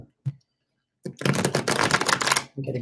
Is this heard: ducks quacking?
no